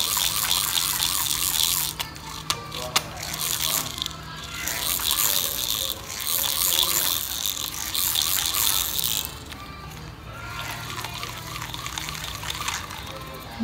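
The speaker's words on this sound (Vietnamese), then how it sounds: "Cái tiếng kêu tê tê ở đây là do cái phần cái miếng tem này nó bong" A used Japanese size 6000 spinning fishing reel is cranked close up, giving a continuous hissing whir with fine ticking and a light squeak from a loose, peeling sticker, running steadily with brief dips.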